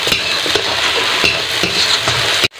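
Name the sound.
sautéing spice masala in oil for prawn biryani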